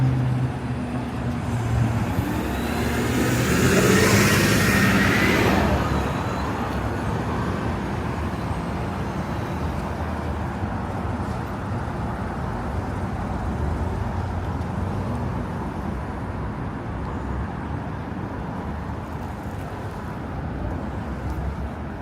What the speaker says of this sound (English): cities aren't loud, cars are loud